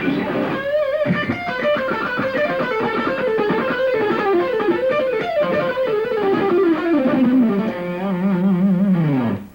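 A distorted electric guitar with DiMarzio PAF Pro humbucker pickups plays a continuous melodic line with sustained, gritty lead notes, loud and close, ending with a descending phrase.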